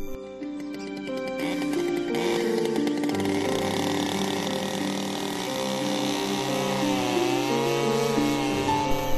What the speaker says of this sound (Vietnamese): sử dụng máy cơ điện để đục một lỗ đủ lớn cho chiếc hộp này